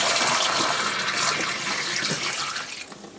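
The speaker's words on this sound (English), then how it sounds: "Pour some water in here." Water poured into the sump of a Samsung dishwasher that will not drain gives a close, splashing, gurgling gush that starts strong and gradually tapers over a few seconds.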